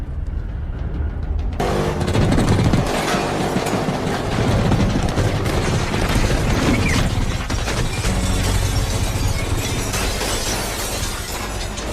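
Movie gunfire erupts abruptly after a quiet opening second, a loud, dense barrage of shots mixed with clattering and shattering that continues without pause for about ten seconds.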